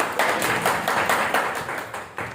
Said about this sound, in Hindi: ताली तो हो जाए।